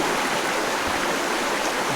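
A clear stream running over rocks near abandoned coal mines gives a steady, full rushing wash of water, close and unbroken, with no voices.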